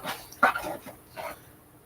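A dog gives a few short barks and whimpering yips, fairly faint and close, with quiet gaps between the sounds.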